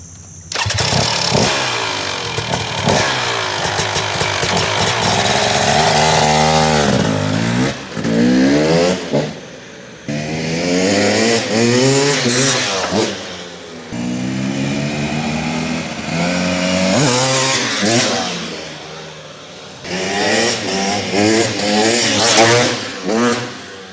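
A 2023 KTM 300SX two-stroke off-road motorcycle revs hard in repeated loud bursts, its engine note climbing and dropping between short pauses, close and with no talking.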